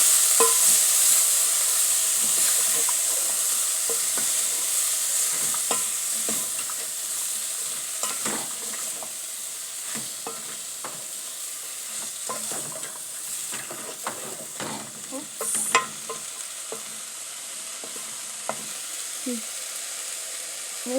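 Rice and beans cook over medium heat in a pan with coriander and are stirred. A continuous low sizzle runs under repeated close scraping and tapping strokes for about twenty seconds, with no talking.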